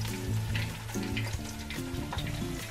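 Close, continuous frying sizzle with crackling bursts and a few utensil clinks, no voices.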